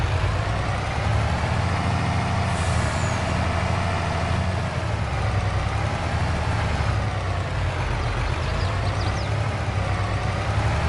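A heavy truck engine in Farming Simulator 22 drones steadily and loudly at 505 horsepower, a constant low rumble with no break across the clip.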